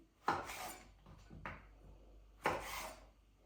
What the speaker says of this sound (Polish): Takie odrobinę większe ogórki kroję na ćwiartki